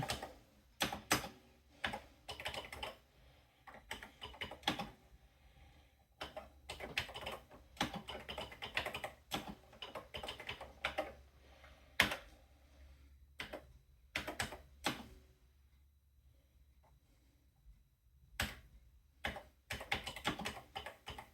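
Keys clatter in bursts of fast typing with short pauses, close and fairly loud, as assembly code is entered on an Atari 8-bit computer keyboard in the MAC/65 assembler editor.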